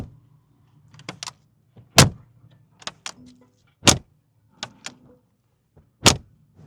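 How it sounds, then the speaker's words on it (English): Heavy doors of a 2025 Mercedes-Benz G-Class slammed shut several times, each a loud close thump with a solid latch click, spaced a second or so apart amid quieter handling noises, with no talk. "these doors are so well built and the mechanism is so like heavy duty that you really got to slam it. And there's like a click to it"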